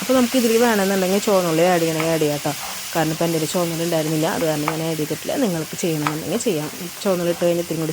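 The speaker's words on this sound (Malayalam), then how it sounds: "അപ്പോൾ അതിൻ്റെ പച്ചമണം ഒന്ന് മാറണ വരെ നല്ല പോലെ ഒന്ന് വഴറ്റി കൊടുത്തു." Ginger, garlic and green chili paste sautés in hot coconut oil, giving a soft steady sizzle with stirring scrapes, heard under continuous talk.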